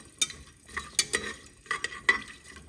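Fennel seeds, star anise and bay leaf roasting in a pan, with about six quick scraping stirs of a spoon over a soft, low sizzle, close and without talk.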